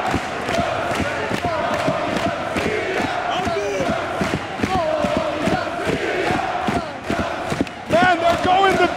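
A wrestling crowd at a wXw 2018 show chants in unison, loud rhythmic voices with steady beats of clapping or stomping carrying on throughout.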